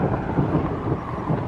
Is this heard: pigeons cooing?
no